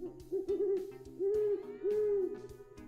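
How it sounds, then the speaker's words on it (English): An owl gives three wavering, resonant hoots, each held for a moment with short pauses between, clear and fairly close against a quiet background. "I got nothing, but here's an owl."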